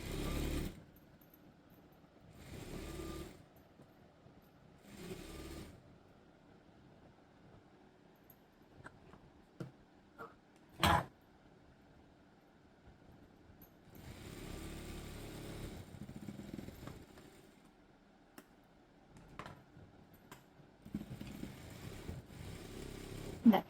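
A sewing machine stitching a double-folded hem on a school uniform top, running in several short motor bursts separated by quiet pauses, with a few clicks and handling knocks between runs.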